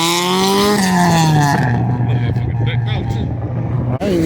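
A car engine revving hard at a car meet rev battle, a loud close roar that climbs in pitch, then settles into a rough, throbbing idle with a quick final blip, people talking over it.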